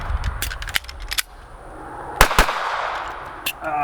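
A Smith & Wesson M&P Shield 2.0 pistol at an outdoor range: two sharp, loud shots close together, plus scattered metallic clicks and clacks as the slide is racked and magazines are changed.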